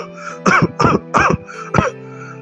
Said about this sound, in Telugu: బాబు ఏంటి దగ్గు వచ్చేస్తుంది?